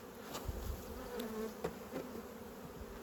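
Honeybees buzzing steadily and fairly quietly around a hive, a continuous drone with brief louder passes of individual insects.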